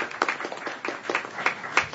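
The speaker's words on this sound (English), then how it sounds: "If you would join me in just a round of applause for all the organizations." A sparse round of applause from a small audience at a policy session on women, peace and security, a handful of distinct claps at an uneven pace, moderately faint.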